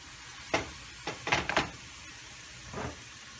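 A medium onion frying in about half a cup of oil, heard as a few short bursts of crackling sizzle with quiet gaps between them, close and fairly faint.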